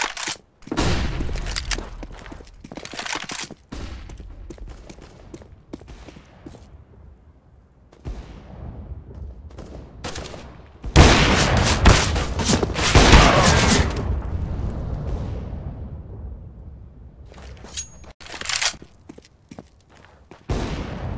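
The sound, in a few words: flashbang grenade in video game Counter-Strike: Global Offensive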